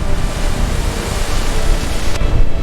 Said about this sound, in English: Water cascades from the canopy like descending rivers.